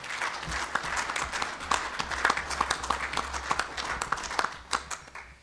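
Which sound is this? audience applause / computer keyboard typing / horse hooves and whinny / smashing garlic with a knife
audience applause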